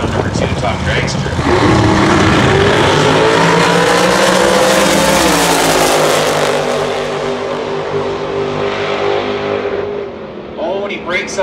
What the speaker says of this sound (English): And here he is in round number two, Top Dragster.